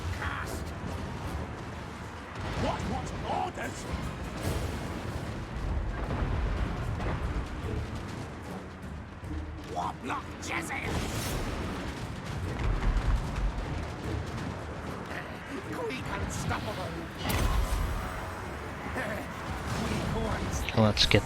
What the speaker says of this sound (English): Let's get some plague claws firing into this mess.